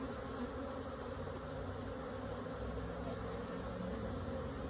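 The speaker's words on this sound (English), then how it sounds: "There's lots of bees here" Honey bees buzz steadily inside an open hive during a colony split, a dense continuous drone of many wings close up with no pauses and no talk.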